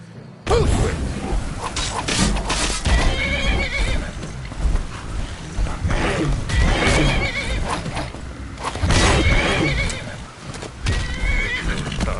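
A horse neighs loudly amid clopping hooves and thuds in Skyrim VR, with game sound effects layered close and busy throughout.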